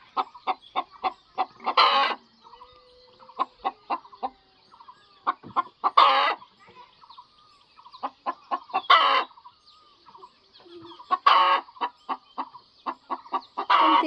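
White hens and a white rooster clucking in repeated quick bursts, close and fairly loud, with several louder harsh squawks breaking in at intervals; no talk.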